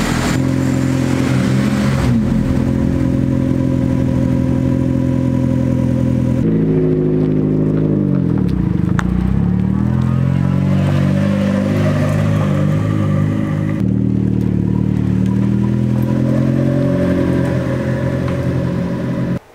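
A car engine with a cracked turbo manifold shakes roughly while starting, cranking and catching into a loud, uneven running drone with surges and dips, with no talking.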